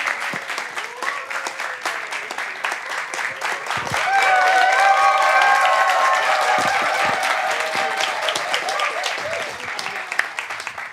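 A church congregation gives a pastor a round of applause, the clapping dense and sustained, swelling louder midway, with whoops and crowd voices mixed in.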